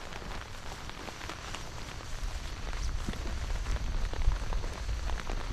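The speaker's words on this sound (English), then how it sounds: "Not only is the intensity of the rain picking up" Heavy tropical-storm rain drums steadily on a tarp shelter in the mountains, a dense close patter that swells louder through the second half with no voices.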